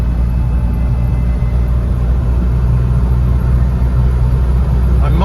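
A Land Rover Series 3 engine drones with a loud, steady low rumble as it accelerates to overtake on the road, heard from inside the cab with constant mechanical noise throughout.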